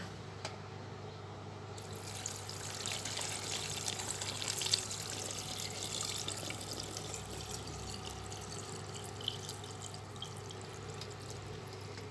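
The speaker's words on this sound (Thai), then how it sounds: "พอมันเย็นยายอ้วนก็จะเทใส่ในกระปุกเหมือนเดิมนะคะ" Cooled syrup for crisp candied tamarind is poured into a jar, a soft steady trickle of liquid with faint drips over quiet background hum.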